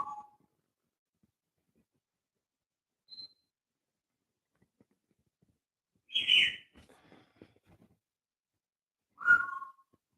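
A pet bird named Max gives a few sparse, sharp whistles and chirps, spaced apart, against near silence.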